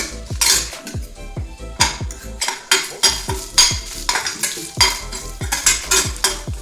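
Fennel and fenugreek seeds dry roasting in a pan, stirred with a utensil that scrapes and clatters against the metal in a steady rhythm of sharp strokes, close and fairly loud, with no talking.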